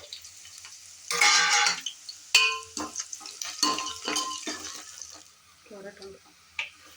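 Green chillies go into a hot pan for avalakki with peanuts already frying, bringing a burst of sizzling, a sharp metal clang, then stirring scrapes and softer crackling as the oil settles.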